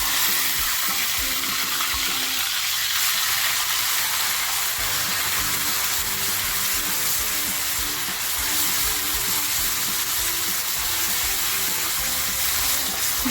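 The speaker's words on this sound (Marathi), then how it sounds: "जो खरडा मी पाट्यावर वाटून घेतला आहे तो तेलामध्ये टाकते आहे" Stone-ground kharda paste frying in hot oil in a kadhai, a steady dense sizzle running the whole time with low clinks and stirring underneath, close and fairly loud, with no voices.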